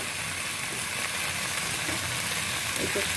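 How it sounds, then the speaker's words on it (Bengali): Steady loud sizzling of hot water hitting a pan of sautéed chicken, a continuous hiss throughout with faint clinks underneath. "এবার এতে আমি গরম জল অ্যাড করে দেব"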